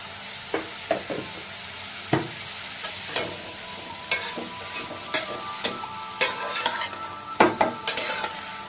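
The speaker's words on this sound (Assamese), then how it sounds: "কাটি থোৱা গাজৰখিনি 5 মিনিটমান সময় ফ্ৰাই কৰি ল'ম" Chopped carrots fry in a pan with a steady close sizzle beneath repeated stirring clinks and scrapes of a utensil, the strokes growing busier toward the end.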